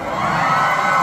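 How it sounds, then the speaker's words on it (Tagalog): A crowd at a live event shouting together on request, a sustained loud roar of many voices with no break, close and filling the space. "Isa pa sigawan!"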